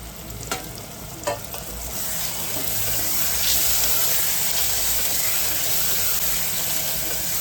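Tomatoes added to onions browned to a reddish colour in a pan for a hyacinth bean curry, frying with a steady close sizzle and a few sharp stirring clinks near the start, the hiss swelling and holding to the end.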